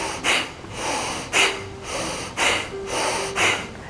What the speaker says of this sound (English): So again, it's an inhale.